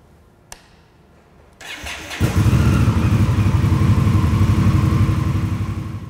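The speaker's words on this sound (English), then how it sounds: "we'll restart the bike and get it back up to temperature before we check the oil" An Indian Scout motorcycle engine cranks after a single click, catches and starts, then settles into a loud, steady, throbbing idle close by. No one speaks.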